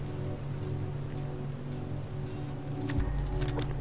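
Rain falls steadily in the survival video game Subsistence, a soft continuous patter on surfaces with a low ambient hum beneath and a brief thump near the end, no voices.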